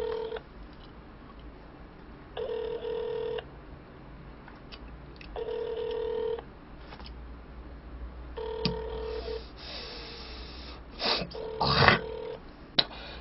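Repeated phone ringback tones, short steady beeps in regular bursts, faint and a little muffled over low background hum, with a few clicks near the end.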